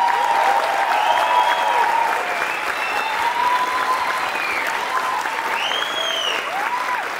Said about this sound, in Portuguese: Senhoras e senhores, eu quero muita salva de palmas pra ela